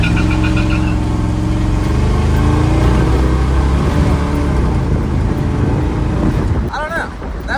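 A car launches hard in first gear from a standstill, its engine roaring loud and close as revs climb steadily, then dropping away near the end as the gear changes.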